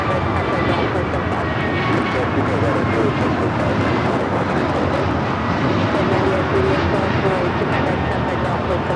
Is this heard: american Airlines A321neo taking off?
yes